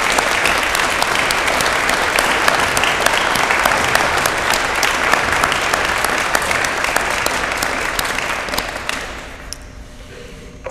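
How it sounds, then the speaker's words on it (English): A graduate commencement crowd at Muskingum University claps loudly and densely for family and friends, and the applause tapers off around the ninth second to near silence. "let's all give these family and friends a round of applause for their exceptional"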